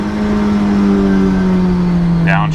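A supercharged Honda S2000 engine holds a steady, loud drone, then a sharp blip of revs near the end as it downshifts with rev matching.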